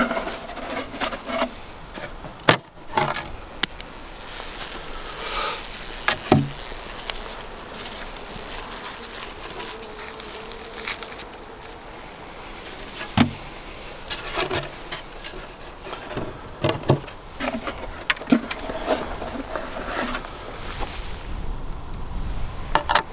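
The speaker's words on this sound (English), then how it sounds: "the bees do tend to get a little bit lively once you start opening them up" Honey bees swarm and buzz around an opened hive at an apiary during winter fondant feeding, a steady, lively drone close by with occasional bumps and clicks of hive handling, no talking.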